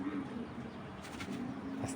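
Netherlands pigeon chicks coo softly and close by, the low calls faint against a murmuring room background.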